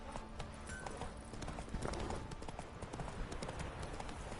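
Horse hooves clip-clop steadily in the video game Witcher 3, a continuous rhythmic trot close by with ambient game sounds behind it.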